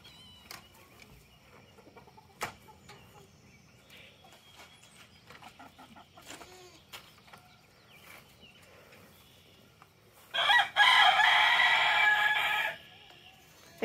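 Chickens clucking softly on a farm, followed by a loud, close rooster crow lasting a couple of seconds near the end.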